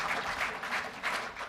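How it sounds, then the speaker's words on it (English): An audience applauds at a State of the City address, a soft, fairly distant, continuous patter of clapping that rises and falls slightly across the short stretch, with no talking over it. "This is the place where you applaud"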